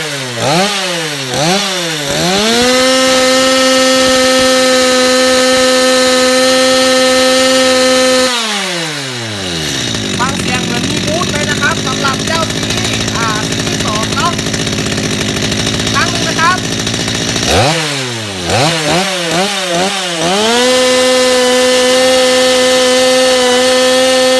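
STIHL MS230 chainsaw revs up in several quick throttle blips, then idles loudly and steadily for a long stretch, drops to a quiet lower idle, and revs up again near the end.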